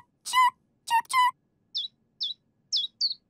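A baby bird in the Teen Titans Go cartoon gives four short, high chirps in an even rhythm, coming after two brief bursts of a high, cartoonish voice.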